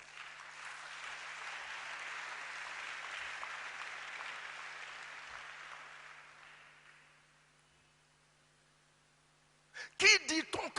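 Congregation at a solemn church convocation breaking into sustained applause that swells and then slowly fades to near silence over about seven seconds, before a short burst of other sound at the end.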